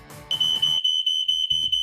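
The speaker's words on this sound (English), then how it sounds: "I'm a smoke alarm. My job is to warn you when there is smoke in your home." A smoke alarm gives a loud, piercing electronic beep that holds steady for over a second, cut by a short break, with a voice speaking beneath it at the start and the end.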